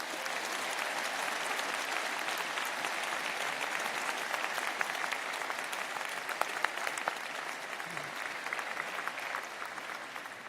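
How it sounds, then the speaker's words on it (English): A graduation convocation audience at Queen's gives a sustained round of applause, a steady, even wash of many hands clapping at a distance that holds for the whole stretch without voices. "please join me in giving your biggest fans a round of applause"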